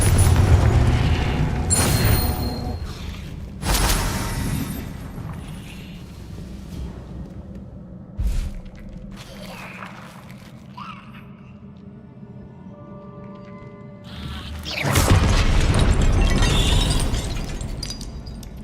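Confringo blasting spell explosions in the Hogwarts Legacy video game: several loud booming bursts with crackling debris, one near the start, others around three and fifteen seconds, quieter rumbling between.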